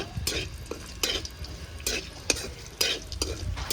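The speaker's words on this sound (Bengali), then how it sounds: "কাজু কিশমিশগুলি এখন ভালো করে ভেজে নেব" Cashews and raisins fry in hot oil while a spoon stirs them, giving bursts of scraping and sizzle at uneven intervals over a steady low hiss.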